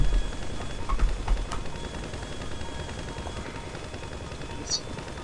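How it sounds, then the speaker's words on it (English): A helicopter chasing players in GTA 5 Online gives a steady, dense rotor roar filling the scene, with faint game effects over it. "we got a chopper on us"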